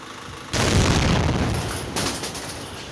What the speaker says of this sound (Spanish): Dos explosiones sacudieron la capital del norte de Santander sobre las 4 de la tarde.